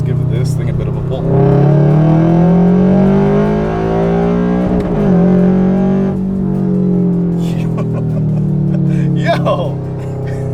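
A 2022 Subaru BRZ fitted with a Sprint Booster accelerates hard in second gear in sport mode, its engine note climbing steadily in pitch as it revs up, then dropping sharply at the shift, loud and close, with a voice speaking briefly near the end.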